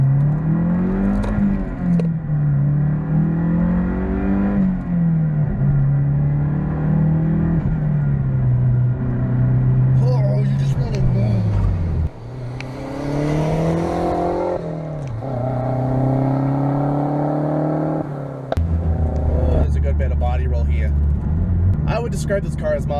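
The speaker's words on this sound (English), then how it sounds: "I'm going to do a 1-2 pull now." A Mazdaspeed 6 turbocharged four-cylinder sedan pulls hard through first and second gear, its engine note rising, dropping at a shift, then climbing again, loud and close with talk over it.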